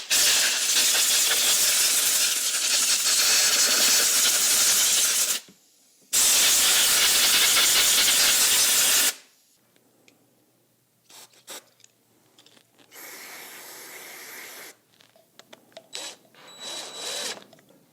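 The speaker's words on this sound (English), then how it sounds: "All right, I'm gonna go hit this with a compressed air hose." Compressed air hose blasting out the plastic carburetor of a free Craftsman push mower: two long, loud, steady hissing bursts separated by a brief pause, followed by quieter intermittent clatter and softer hissing.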